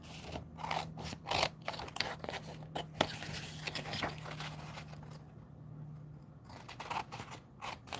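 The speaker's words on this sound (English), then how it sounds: "Sometimes I just use my scissors and just cut." Scissors snipping paper for a stamp craft project, a series of close, crisp irregular cuts and small paper rustles in a quiet room.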